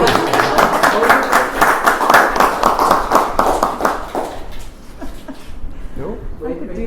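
An audience at a signing ceremony bursts into quick, lively clapping for several seconds, then the applause fades into scattered claps and murmuring voices.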